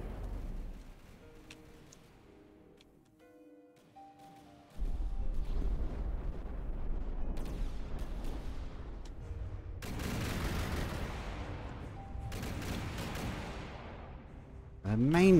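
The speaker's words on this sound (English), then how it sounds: "The main gun's working." Heavy gunfire from an airship's main gun in the video game From the Depths: a low rumbling background breaks into loud, booming blasts with long crackling tails, several in a row.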